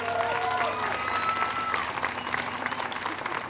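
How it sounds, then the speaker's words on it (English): A crowd at an outdoor historic landmark dedication applauds steadily throughout, with cheering voices rising above the dense clapping. "I would also like to have everyone please give a big round of applause for Jennifer Churchill."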